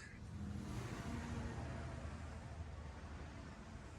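A 1974 Chevrolet truck with a 454 big-block V8 runs with a deep, steady rumble, faint and somewhat distant, holding a low throaty drone with no voices over it.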